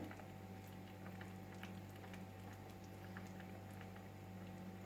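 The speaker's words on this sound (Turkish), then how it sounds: "Gördüğünüz gibi yavaş yavaş kaynıyor." Apricot jam simmers slowly in a pot, giving a faint, steady patter of small bubbles popping under a low continuous hum.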